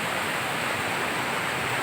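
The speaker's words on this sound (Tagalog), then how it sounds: "Ayan, baha na sa amin dito." Floodwater flowing through a neighbourhood street in Santo Cristo, Bulacan, during rain: a steady, broadband rushing wash with no breaks and no voices.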